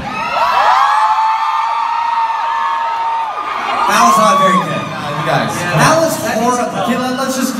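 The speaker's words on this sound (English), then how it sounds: "On count of three, you guys, I really need you to scream loud." A live concert crowd at a fan show screams, whoops and cheers loudly and continuously, swelling in bursts over a sustained roar of mixed voices.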